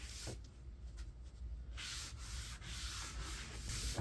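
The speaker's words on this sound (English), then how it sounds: "now we're going to start raising this grain and doing our final sanding" Steady rasping of sandpaper rubbed over a live-edge wood shelf during final sanding after raising the grain, back-and-forth strokes that grow louder and more continuous partway through, close up with no talking.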